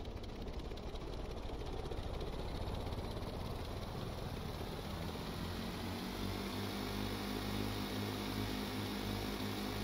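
An ultralight aircraft engine in the Stormworks video game hums steadily throughout, a loud continuous drone with tonal propeller harmonics that settle into a smoother, higher pitch toward the end.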